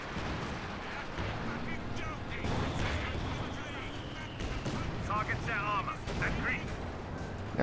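Battle gunfire and artillery in Company of Heroes 2 on the Port of Hamburg map: dense, continuous booms and crackling shots overlap throughout, with voices heard among the steady rumble of the fight.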